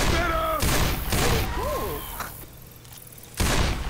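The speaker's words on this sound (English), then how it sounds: "Oh, I got one shot left on the AK." An AK rifle fires in Left 4 Dead 2, with bursts and booming shots scattered under excited voices talking over the action.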